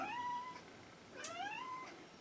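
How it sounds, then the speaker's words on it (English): A cat meows outdoors: two drawn-out, wavering cries, the second rising then sliding down, heard fairly close with no talking. "George, there's a cat outside that George has been talking to not too frie"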